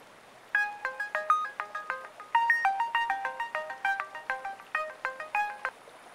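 A telephone rings in repeated bursts of an electronic warbling tone, clear and close, with brief pauses between rings and no talking.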